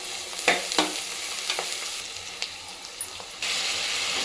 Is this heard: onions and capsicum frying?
yes